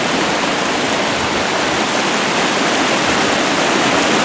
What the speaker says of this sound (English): I love roaring water.